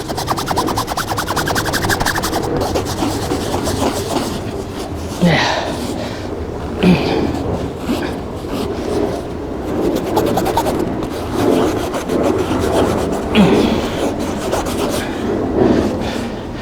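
Graphene-X backpack fabric rubbed hard against a rock outdoors makes a gritty, rasping scrape in repeated strokes, with scratchy textured bursts continuing over a steady background, and brief voice sounds scattered through.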